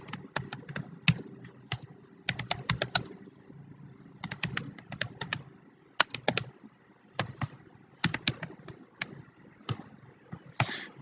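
Typing on a computer keyboard while writing in a new file during an introductory programming lecture: quick clusters of crisp key clicks separated by short pauses, close and clear.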